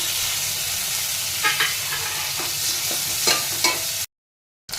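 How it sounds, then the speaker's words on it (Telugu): Mustard seeds and spice paste sizzle loudly in hot oil for chole, a dense, steady frying hiss with occasional stirring scrapes, then a brief cutout near the end. "ఇప్పుడు ప్రిపరేషన్కి మస్టర్డ్ సీడ్స్ వేసుకోవాలి. పేస్ట్ వేసుకోవాలి."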